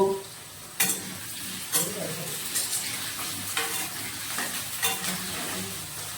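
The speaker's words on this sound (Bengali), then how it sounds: "মাংসের জন্য আলুটা প্রথম লাল লাল করে ভেজে নেব।" Potatoes frying in hot oil for a meat curry, a steady close sizzle broken by a series of sharp scraping stirs of a spatula against the pan at irregular intervals.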